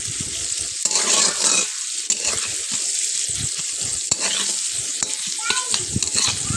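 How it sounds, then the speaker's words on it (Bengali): Chopped onions frying in spiced oil for a fish dish while a spatula stirs them, a steady close sizzle broken by scraping strokes and light clanks against the pan. "ফেলটির সাহায্যে এভাবে আমি কিছুক্ষণ নেড়ে নিলাম পেঁয়াজটাকে"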